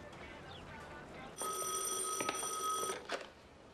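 An old telephone bell rings once in a single sustained burst of about a second and a half, moderately loud in a quiet room, with faint background noise and stray sounds around it.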